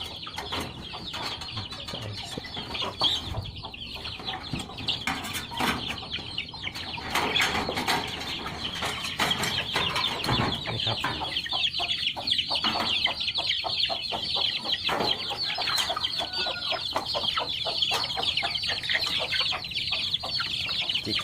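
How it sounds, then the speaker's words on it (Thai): Chickens cluck and squawk inside a newly built coop on a small farm, with wings flapping now and then, a busy, steady stream of calls lasting throughout at close range. "ส่วนอันนี้ก็เล้าไก่ครับทำเพิ่งเสร็จครับ"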